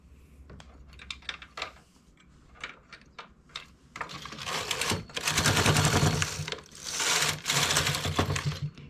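A home knitting machine works a mermaid-tail blanket in sets of four rows, first a series of separate clacks and rattles, then long loud sliding carriage sweeps across the bed, close and alone.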